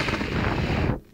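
Someone blowing hard on a burning candle that won't go out, a loud close breathy gust of wind-like rush lasting about a second before stopping sharply.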